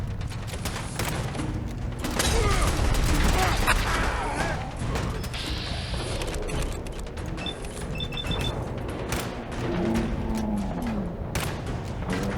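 Gunfire from a gun in the video game Fallout 4, heard as loud, dense bursts of shots and mechanical clatter mixed with other game noise, with a voice talking over it.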